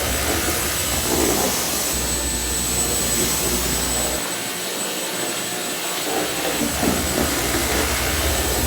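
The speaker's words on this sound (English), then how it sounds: "now I need a vacuum." A vacuum cleaner runs loud and close, a continuous roaring whoosh with a steady high whine that holds for several seconds.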